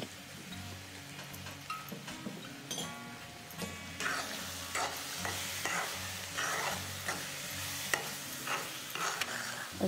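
Carrot halwa is stirred and fried in ghee, making a soft, steady sizzle with repeated scraping and stirring strokes of a spoon against the pan, fairly close and quiet.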